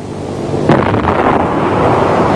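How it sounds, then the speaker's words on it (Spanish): A grain dust explosion in a silo erupts as a sudden broad roaring blast, then a sustained rumbling wash of noise that fills the rest of the short stretch. "Solo una diminuta chispa o llama y esta mezcla de polvo y oxígeno del aire pueden reaccionar con extrema rapidez, explotando violentamente."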